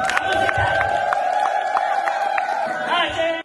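A crowd claps and cheers at a gathering where cheques are handed to widows, the clapping mixed with whoops and shouts and a sustained tone running underneath.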